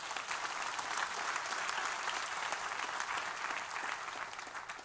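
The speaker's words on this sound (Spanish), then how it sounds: "Dele un aplauso al Señor." A church congregation applauds during a Spanish-language sermon, with sustained, dense clapping from many hands filling the room at a steady level.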